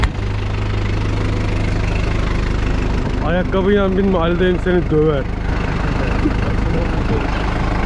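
A Kubota M9540 tractor engine idles loudly and steadily throughout, with someone speaking briefly over the rumble partway through.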